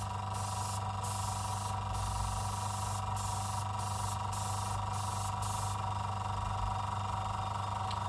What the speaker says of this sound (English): So now I can do airbrushing.